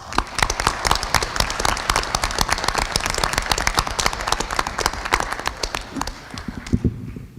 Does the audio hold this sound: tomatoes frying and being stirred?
no